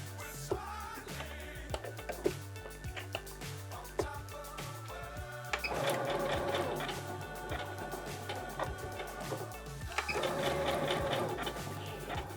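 A sewing machine runs a button-attaching stitch, a close rhythmic mechanical clatter of steady needle strokes that speeds up in two louder bursts, with no talk over it.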